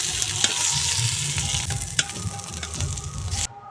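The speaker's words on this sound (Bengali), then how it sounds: "আলু ভেজে নিয়েছি। এখন তুলে নেব।" Potatoes fry in hot oil in a pan for a dhaba-style egg and potato curry, a loud steady sizzle with stirring scrapes and a couple of sharp knocks before it cuts off abruptly.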